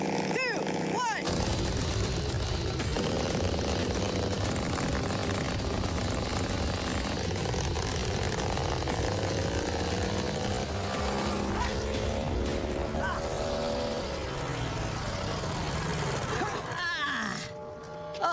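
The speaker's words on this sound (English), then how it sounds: "With the RPM cranked to the very max, This thing is terrifying." A small engine on an improvised vehicle screams at maximum RPM, a loud sustained raspy roar that holds steady for most of the time before briefly dropping near the end, with voices mixed in.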